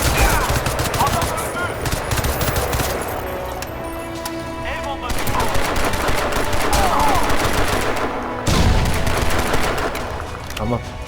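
Rapid automatic gunfire in the video game Crysis 2, set in New York, crackles in dense bursts alongside explosive impacts, with someone talking over the shooting throughout.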